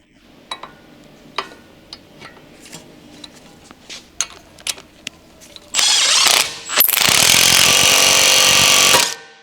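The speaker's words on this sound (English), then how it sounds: "remove the two mounting bolts of the rear bushing on the lower control arm." Power tool, likely an impact wrench, removing the lower control arm rear bushing mounting bolts on a 2007 Honda CR-V: scattered metallic taps and clicks at first, then two loud, sustained bursts of harsh rattling hammering up close.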